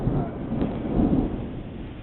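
Loud thunder rumbles low and continuous through a thunderstorm, with steady rain hissing throughout.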